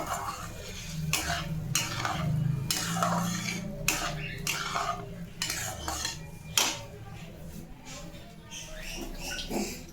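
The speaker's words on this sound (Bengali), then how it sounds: "দিয়ে এটাকে একটু ভালো করে নাড়িয়ে নেব" Prawn and yam curry being stirred in a pan, with repeated scraping and clinking of a spoon against metal in an irregular rhythm, close and moderately loud over a low background hum.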